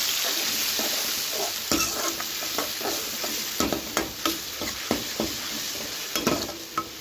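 Tomato paste sautéed with onions in a pan, a continuous sizzle punctuated by repeated scraping and stirring knocks of a utensil against the pan, growing more frequent toward the end.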